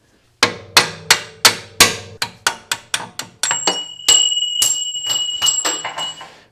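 A hammer drives a punch to knock a suspension bolt out of a car's strut assembly while swapping Koni Special Active FSD shocks: about a dozen sharp metallic strikes in a steady rhythm, close and loud, with ringing overtones building late in the sequence.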